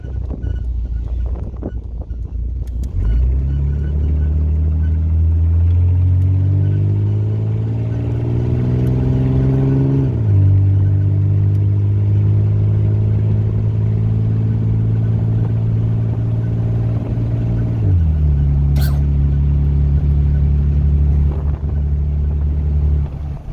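1983 Buick Regal engine on a test drive after drum brake work, heard from the cabin: a low steady rumble that climbs through a gear shift, drops, then rises again, with wind noise throughout.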